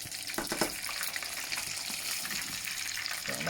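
Beer-battered fish frying in hot oil, being flipped over: a steady close sizzle with a few louder bubbling bursts as the piece turns.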